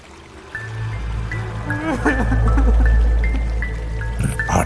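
River water babbles and trickles steadily in the background, with brief drips and splashes mixed in, under a soft, continuous wash.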